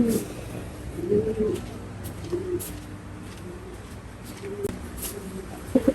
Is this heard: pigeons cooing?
yes